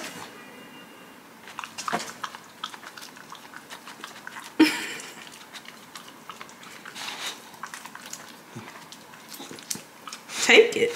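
A dog chews and bites on a treat with soft, irregular crunching and smacking, close by, while people talk and laugh.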